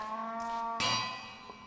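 A Minecraft cow from the GreedyCraft modpack lets out a single short, mid-pitched moo. It rises over a steady background tone and stands alone with no talk over it.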